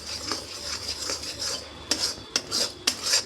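A spoon scrapes and stirs yogurt chutney in a pan over low to medium heat, making steady rubbing strokes with several sharper clinks near the end, close and alone.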